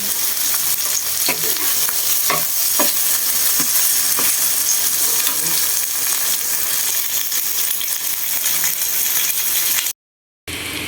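Pork sisig frying in a pan, a loud, dense sizzle throughout with intermittent metallic scrapes and clacks of stirring, close and without talk, cutting out briefly near the end.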